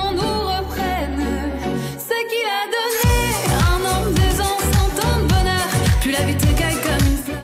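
French-language pop song "Requiem" by Alma, France's Eurovision 2017 entry, plays loud and alone: a sustained vocal-led opening, a brief break, then a driving rhythmic beat with repeated percussive hits under the melody.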